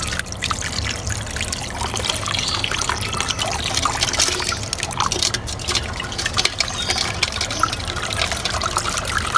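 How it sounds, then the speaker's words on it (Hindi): Water runs from an opened tap while soaking multani mitti is drained, a continuous close trickle with small splashes and bubbling at a moderate, even level throughout. "पानी खोल दिया मैंने"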